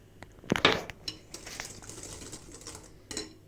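Eggs and sugar being whisked in a bowl for a fruit cake, quiet clinking and tapping of a whisk against the dish in irregular bursts, fairly close and faint.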